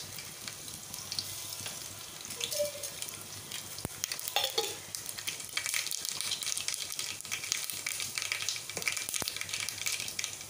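Mustard seeds sizzling and crackling in hot oil with crushed garlic while khichdi is being made, a steady frying hiss running throughout with occasional stirs and pops, fairly close and alone.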